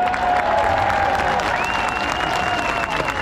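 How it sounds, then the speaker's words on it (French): A crowd at an outdoor rally on a Paris square applauds in a loud, continuous roar of clapping. Thin whistles or cheers ride above it, and the sound stays dense and steady throughout. "Je vous prie d'applaudir Marc Doyer."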